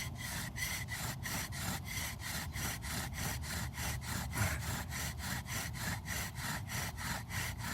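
A wooden bow drill spindle spinning on a stepped ledge hearth, giving a steady rhythmic rasping saw-like stroke about three times per second, close and continuous with no talking.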